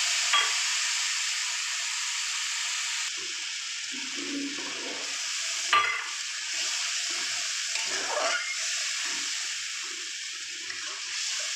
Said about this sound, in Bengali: এখানে আমি সর্ষে পোস্ত বাটাটা দিয়ে দিলাম